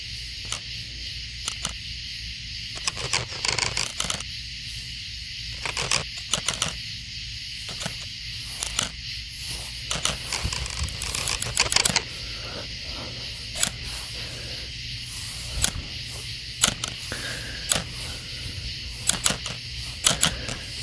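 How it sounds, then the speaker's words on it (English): Mechanical clicking from aliens shown as flashing lights in a horror story: irregular rapid clicks and ticks, sometimes in quick bursts, over a constant droning background for about twenty seconds. "I really like the aliens being depicted as flashing lights that make clicking noises."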